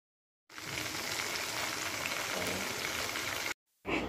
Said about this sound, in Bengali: প্রথমে হচ্ছে মাছটাকে ভাজি করে নিচ্ছে